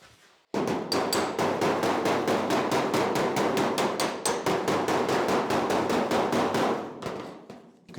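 A hammer striking car body sheet metal against a dolly to work out dents on a 1951 Ford, a fast, even run of sharp metallic blows lasting several seconds, loud and close, then stopping.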